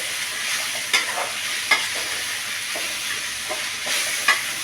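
Pirandai and tamarind sauté in a pan with a soft continuous sizzle, broken every second or so by the sharp scrape of a spoon stirring, close and steady with no talking.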